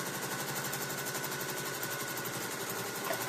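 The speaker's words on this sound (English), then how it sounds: "And then I go ahead and do my quilting right to the edge." A sewing machine hums steadily and continuously at close range, free-motion quilting on a mini frame with no pauses and no voices.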